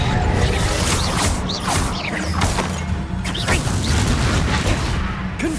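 Repeated fiery Confringo spell blasts in Hogwarts Legacy, loud booming bursts and whooshes overlapping in a dense continuous barrage of combat noise.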